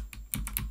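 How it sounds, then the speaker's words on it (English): Clicky computer keyboard keys, including a number pad fitted with clickier switches, typed in a quick burst of three or four sharp, close keystrokes. "I'm one of those people who has a number pad, and I gave the number pad clickier keys."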